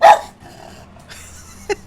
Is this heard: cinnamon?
no